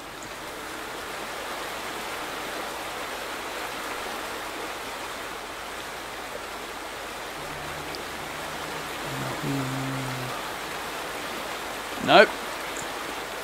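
Flowing water in The Vanishing of Ethan Carter, a steady rushing stream-like hiss throughout, with a brief low hum midway, a short spoken word and a sharp knock near the end.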